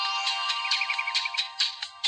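A phone ringing with an incoming call, a bright electronic melodic ringtone of quick repeated chirps and trills, close and clear with no talk.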